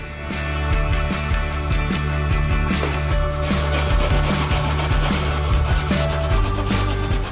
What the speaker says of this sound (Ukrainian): Чистимо його і натиратимемо на дрібній терці